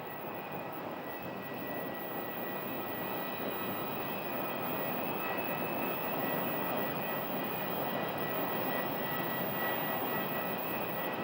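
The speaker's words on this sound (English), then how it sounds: "We have a Mesa Airlines CRJ that's taxiing for departure." A Mesa Airlines CRJ regional jet taxiing for departure at Sky Harbor airport, a steady, even engine roar with a faint high whine held throughout, moderately distant and without talk.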